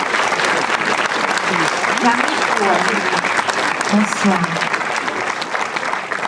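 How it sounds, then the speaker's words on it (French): Loud, sustained applause from a festival opening audience welcoming an actress, a dense crowd wash with a brief spoken greeting and other voices over it. "Sous les applaudissements, évidemment"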